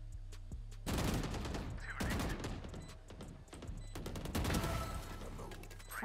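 Rapid bursts of video-game gunfire crackle over a dense, busy mix of shots, loud and layered, with a player's voice faintly underneath.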